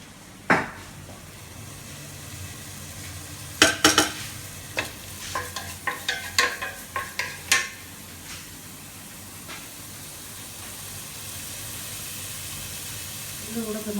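Masala being stirred and fried in a pan for chicken curry, with a steady sizzle underneath and a run of clattering spoon scrapes and knocks in the middle, close and moderately loud.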